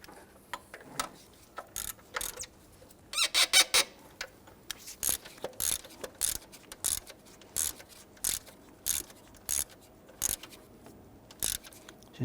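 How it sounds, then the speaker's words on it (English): A ratchet with a 15mm socket snugs the horizontal alternator bolts on a 1999-2004 Jeep Grand Cherokee 4.7L V8, giving quiet, close bursts of rapid clicking separated by short pauses. "Using your 15mm socket, let's go ahead and snug down the two horizontal bolts on the alternator."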